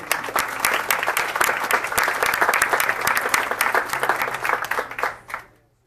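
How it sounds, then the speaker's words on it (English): Audience at a school board meeting applauding students honored for a state bronze in commercial drone, a brisk, dense round of clapping that carries on evenly and then stops abruptly. "Give them a round of applause."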